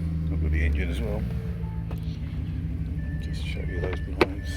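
Electric window blinds in an Audi S8 4.0 TFSI run with a thin motor whine over the car's steady idling rumble, with a sharp click near the end.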